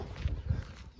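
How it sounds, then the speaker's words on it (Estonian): A dog somewhere behind, out of sight, on a walk in Greece gives two short low barks, spaced about a quarter second apart, at moderate distance and fairly faint, amid outdoor background noise. "Sama koer on nüüd seal taga."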